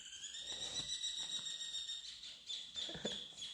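Birds sing just after rain at dawn, thin high repeated calls over a constant insect-like trill, with soft intermittent chirps, moderately distant and steady.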